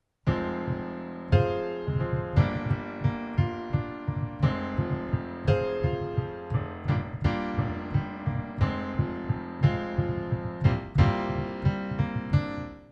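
Solo piano plays the pre-verse of a song, steady rhythmic chords with a bass octave pulse, close and clear with no talking.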